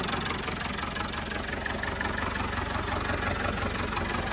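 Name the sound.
old tractor engine idling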